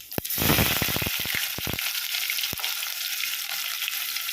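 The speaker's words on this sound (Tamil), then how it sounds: "வெங்காயம் நல்லா வதங்கினாலும் அதுக்கப்புறம் தக்காளி போட்டுக்கணும்" Onions frying and sizzling loudly in a pan for an old-style prawn curry with mixed vegetables, with a burst of stirring scrapes near the start and a steady close hiss throughout, no talking.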